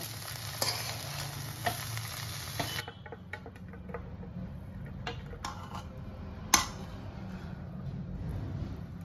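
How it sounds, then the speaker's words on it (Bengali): Egg chowmein being stir-fried in a pan for a street-style dish, with a steady sizzle and repeated scraping and tossing clatters, loudest early on, then a quieter frying hiss with occasional sharp utensil knocks. "এবার পুরো চাউমিনটাকে দুবার তিনবার নেড়ে"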